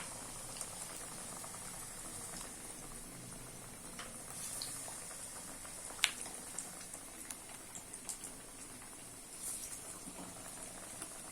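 Potato pakoras coated in gram flour batter deep-fry in hot oil with a soft, steady sizzle. Small scattered pops and crackles break through now and then, with no one speaking.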